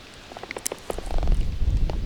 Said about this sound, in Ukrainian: Бачите, дощ який пустився.